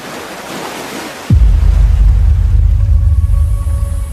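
Ocean surf roars in as a steady, loud broadband wash after a quieter opening second, with the sea a fisherman battles daily off Indonesia; faint tonal hums sit beneath it.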